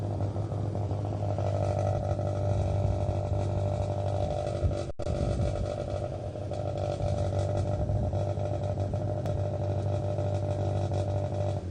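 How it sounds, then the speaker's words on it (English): A racing motorcycle runs a hillclimb course at Mullinavat, its engine a continuous drone heard from a distance that rises and falls as the bike climbs, with no talking. "So, bike going in there now."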